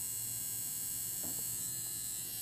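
A Zeus Volt Gold electric hair trimmer runs steadily with a close, constant high-pitched buzz and a low hum beneath it, unbroken and without speech.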